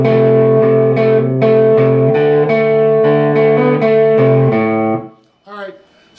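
A distorted electric guitar plays a loud, sustained riff with ringing note changes, then stops abruptly and leaves a brief rustle.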